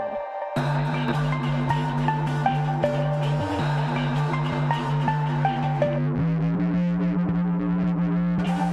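A heavy, distorted bass line in a tempo-changed drum and bass track, thick and continuous, with a sharp drop-in after a brief lead-in, steady pulsing beats and shifting effected tones layered above.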